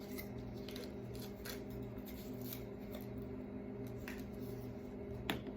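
Quiet, repeated snips and crisp cutting sounds as scissors cut open capsules, fairly close, over a faint steady hum.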